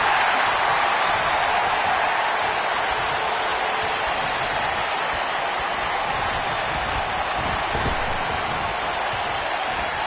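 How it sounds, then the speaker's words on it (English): A WWE 2K19 video game crowd roars in a dense, unbroken wash of cheering and applause that holds at a steady loud level throughout. "by the sound of this crowd, I think they're getting what they wanted"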